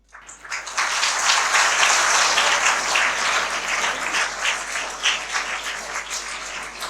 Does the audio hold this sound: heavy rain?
no